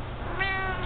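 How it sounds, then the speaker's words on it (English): House cat giving a single short meow, close and clear, over faint room noise. "That's a great meow"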